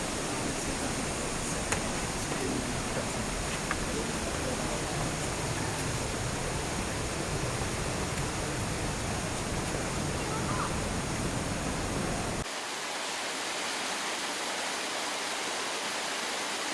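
Waterfalls cascade down stepped rock in a gorge at Watkins Glen State Park, a steady broadband roar of rushing water that continues throughout, with the low rumble thinning slightly near the end.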